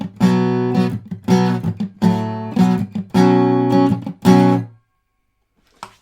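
Acoustic guitar chords ringing with open strings, strummed or picked in several bursts with short gaps, played up close and loud, with a quiet pause at the end.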